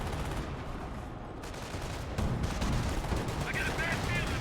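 Gunfire in a Company of Heroes 1 match, with bursts and shots from machine guns and other weapons crackling in a dense, steady battle din. The firing is continuous and fairly loud, with no voices over it.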